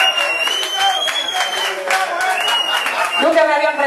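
Crowd applause and cheering for a salsa singer at a Cuban venue, with loud clapping mixed with shouts and voices and some sustained tones coming through near the end.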